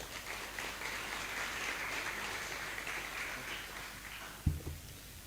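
Applause from the audience at an education, culture and politics colloquium in San Juan, a steady moderate wash of clapping that runs continuously, with a brief thump near the end.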